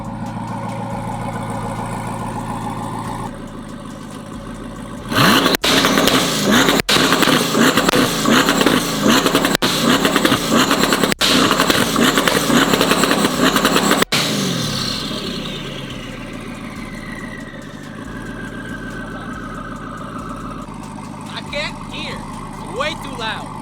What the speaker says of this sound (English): Hold the button down, hit 4500 RPM, and it will split flames.